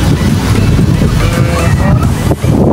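Strong wind at Manila Bay's Dolomite Beach buffeting the microphone in a steady, loud roar, with a low rumbling rush throughout and no clear voices.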